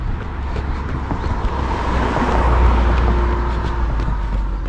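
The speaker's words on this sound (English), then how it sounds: "wait for that car to go by" A car passes along a road beside a runner outdoors, its broad rushing hum swelling toward the middle and then easing. Wind buffets the microphone throughout.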